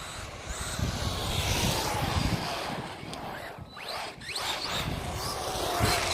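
An Arrma Typhon 3S 1/8-scale RC buggy races over dusty ground, its motor whining and rising and falling in pitch through bursts of gritty, crackling tire noise.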